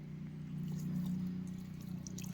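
Water is poured over hands for washing, a quiet, steady pouring stream lasting a couple of seconds, close by and with no talking.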